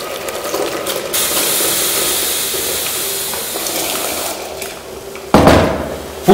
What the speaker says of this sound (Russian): И вот теперь заливаю горячей водой